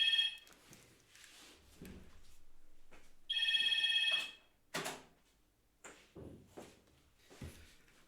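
A telephone rings during a livestream, with repeated electronic ringing bursts standing out loudly, separated by quieter gaps and a few short knocks or handling sounds.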